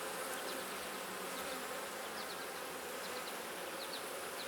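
Dense, steady buzz of many honeybees swarming over a brood frame lifted from a backyard hive, a constant close hum filling the whole stretch with no speech.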